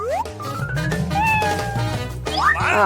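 A cat meows repeatedly in loud, close, drawn-out calls with rising and falling pitch, sounding alone in a cartoon kitchen scene.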